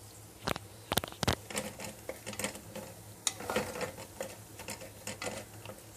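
Onions sauté gently in a pan for Egyptian koshari, with a soft sizzle under scattered clicks and scrapes from stirring. The sounds come close and fairly quiet, with no talking.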